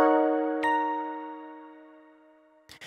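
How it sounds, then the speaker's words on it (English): A layered synth bell, the Night Star preset from Lush, played a little dry in a pop production, rings out as one clear bright note with a light second strike and then decays slowly and evenly, alone. "So I added this bell."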